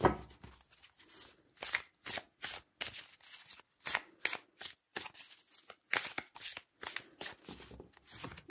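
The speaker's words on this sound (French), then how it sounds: "on va prendre une carte de tarot" Tarot cards shuffled by hand close up, a run of crisp riffling bursts and soft slaps in an uneven rhythm, with no talk.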